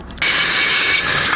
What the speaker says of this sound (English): Go ahead and cut the bottom rail down.